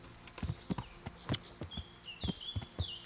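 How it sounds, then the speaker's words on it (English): Horse hooves clip-clopping in the Kingdom Come: Deliverance video game, irregular walking hoofbeats at moderate distance with faint bird chirps in the background. "Call the horse."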